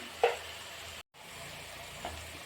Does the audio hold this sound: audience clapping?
no